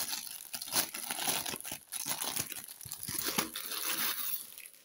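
Crinkly plastic packaging around an autumn-themed DIY cross-stitch canvas being opened and handled, with a steady run of close, moderately loud rustles, crackles and small tearing sounds lasting several seconds.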